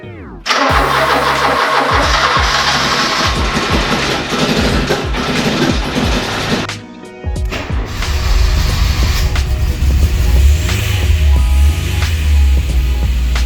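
A Porsche 924 car engine starts, then runs with a loud, steady droning hum, dips briefly and resumes with deep low rumble as it drives, close and continuous with no talk.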